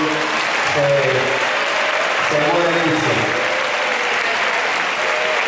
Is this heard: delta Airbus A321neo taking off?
no